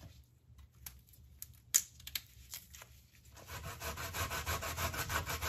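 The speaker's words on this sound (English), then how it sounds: "I'm grating my cassava." Cassava root being grated by hand to make bammy, a steady rasping scrape that starts sparse with a few clicks and builds into continuous, fairly close rubbing toward the end.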